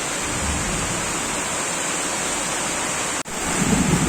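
Heavy, torrential rain pours without a break beside a waterlogged pointed-gourd field, a constant loud wash of noise with one brief dip before it resumes, and no voices.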